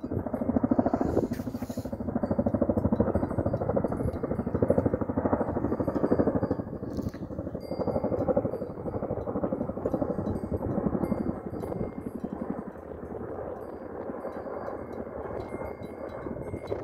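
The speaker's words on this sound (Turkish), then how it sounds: "Üstümüzden de bir helikopter geçiyor. Zannedersem bu Rusların o çift pervaneli helikopterinden." A twin-rotor Russian helicopter passes overhead in open mountain country, its steady, loud rotor drone filling the clip and slowly easing off toward the end, with no speech.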